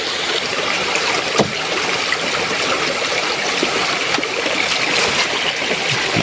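A shallow rocky stream trickles and burbles steadily over large stones, an even, close wash of running water with a few brief splashes and no talking.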